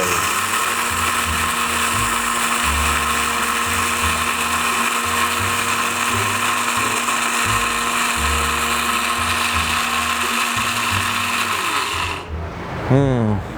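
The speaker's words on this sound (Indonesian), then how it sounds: "Kemudian kita blender." A kitchen blender grinds rice and kencur (aromatic ginger) at a steady, loud, continuous whir, running alone for about twelve seconds before winding down and stopping abruptly.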